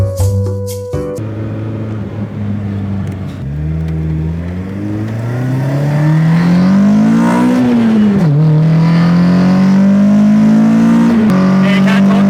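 A Toyota Trueno's engine revs hard and climbs in pitch through several gear pulls, loud and close from inside the car, with a brief dip before rising again; people talk over it.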